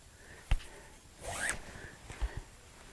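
A cord pulled through a channel to cinch shut the end of an Osni cloak, a brief rasping swish near the middle framed by a few soft handling taps, close and fairly quiet.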